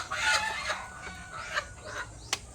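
A chicken clucks in short, close bursts, with a brief sharp cry near the end over a quiet outdoor background.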